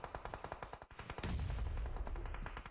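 A grenade blast in PUBG Mobile booms loudly and rumbles on after a rapid run of nearby automatic gunfire, with no one talking.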